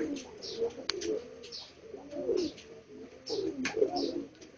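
A grey pigeon in a fancier's loft coos in repeated rolling bursts, close and clear, with a few sharp clicks and faint chirps between calls.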